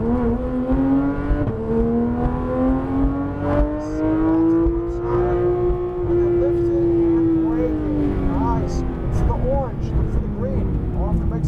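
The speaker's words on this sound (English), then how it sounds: "And now full throttle again." A Porsche 993 GTS RS engine pulling hard at full throttle on a track with orange cones, its steady loud drone rising and falling in pitch as it climbs through the revs, with voices talking over it inside the car.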